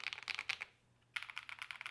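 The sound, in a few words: typing on Keychron V1 keyboard with Akko switches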